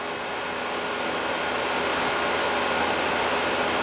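Vacuum pump pulling a vacuum on a central air conditioning system that lost its refrigerant through a bad leak; a steady, loud, continuous mechanical whir and hiss runs unbroken throughout.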